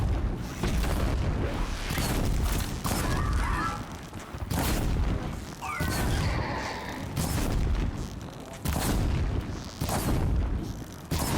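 Fire attack explosions in Horizon Zero Dawn, a steady series of loud, roaring blasts and booms recurring every second or two, dense and close, with brief swooshing flares between.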